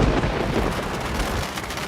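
Heavy downpour with thunder, a loud rumbling roll over the constant hiss of pouring rain, close and dense for the whole stretch.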